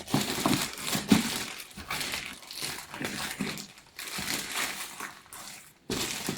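Packaging for a Huawei AI Cube smart speaker with Alexa being ripped open one-handed, giving loud, close crinkling and tearing bursts with brief pauses between them.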